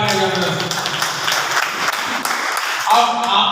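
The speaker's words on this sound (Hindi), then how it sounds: "बहुत बढ़िया, पंकज जी के लिए जोरदार तालियां।" Applause for Pankaj at a marketing-plan event, a steady wash of clapping mixed with overlapping voices, loud and continuous.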